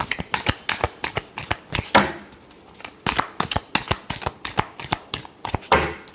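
Tarot cards riffled and shuffled by hand in quick repeated bursts, crisp close snapping flutters in a steady rhythm with brief pauses, alone without speech.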